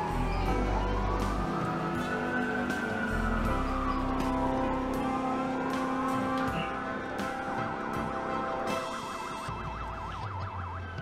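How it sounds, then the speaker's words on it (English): Wailing police sirens in Watch Dogs sweep up and down in overlapping loops, steady and fairly loud across the whole stretch, with a low rumble underneath and faint clicks; no talk over them. "That's a lot of sirens for a blackout."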